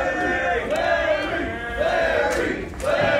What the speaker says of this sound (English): Right on cue, this South Common Rec Room crowd. Trying to feed him energy, get behind him.